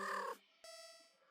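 A cat purrs contentedly in a horror video game, heard as a short bright burst that cuts off, then a thinner, steady tonal hum resumes after a brief gap.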